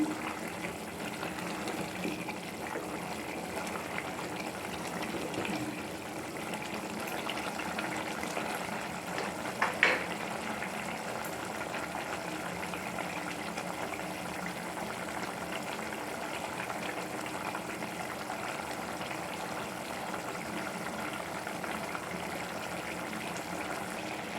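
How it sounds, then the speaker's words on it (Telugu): Pasta boils in a pot of water on the stove, a steady bubbling and simmering wash throughout, with one brief clink around the middle and no voices. "చూడండి పాస్తా ఇలా ఉడుకుతుంది"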